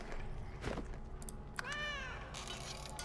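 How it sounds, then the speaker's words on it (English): A single cat meow in the video game Divinity Original Sin 2, a short clear rising-falling cry near the middle, with faint clicks and background game ambience around it and no talking. "The cat is still following us."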